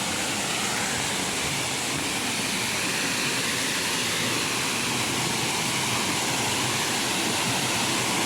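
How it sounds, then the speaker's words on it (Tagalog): Tai Tam Mound waterfall gives a constant, dense roar of falling water that stays steady and fills the whole stretch, with no speech over it. "Ito yung falls, guys."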